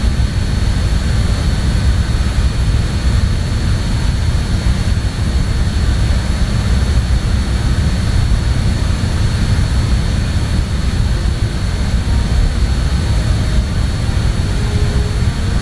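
Steady, loud jet engine roar of a small jet taking off in Microsoft Flight Simulator from an airport in Uganda, a constant broad rumble and hiss that holds unchanged throughout with no talking.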